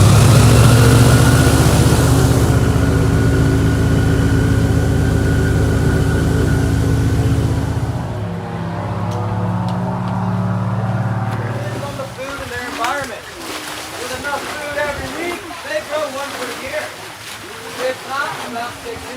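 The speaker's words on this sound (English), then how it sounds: "now let's jump into us riding this airboat. It was so much fun, and it really wasn't as loud as I was thinking" An airboat ride with a loud engine roar and a steady drone that later drops in intensity, giving way to wind and water noise with shifting tones near the end.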